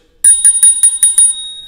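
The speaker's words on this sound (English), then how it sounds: "you got to have your bell too." Bicycle bell on a Rad Runner e-bike, six quick bright rings in a steady rapid series, loud and close, with the last ring fading out alone.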